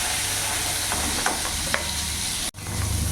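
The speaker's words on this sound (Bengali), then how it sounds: "শিমগুলো দিয়ে একটু নাড়াচাড়া করে একটু ভাজা ভাজা করে নেবো আলুগুলোর সাথে" Potatoes and flat beans stir-fry in a karahi with a loud, continuous sizzle close by, and a few faint utensil taps come through before the sound briefly cuts out and the frying resumes.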